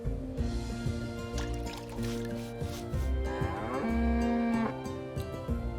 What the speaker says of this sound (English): Hey, Rosa, sorry about your cow.